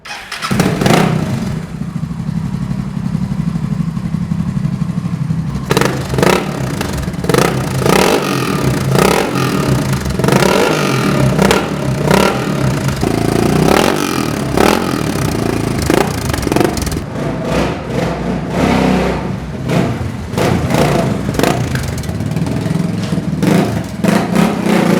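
A CCM R30 custom motorcycle fires up and then revs hard, loud and close, its engine note rising and falling in repeated throttle blips over a steady rumbling idle, with metallic clatter throughout.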